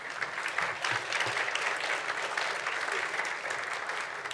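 Applause from a media conference audience for the speakers, a continuous even roar of clapping from a sizable crowd, with faint voices beneath.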